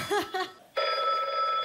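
Telephone bell ringing on a studio set, a short burst of trilling rings, a pause, then a long sustained ring, loud and close with brief voices at the start.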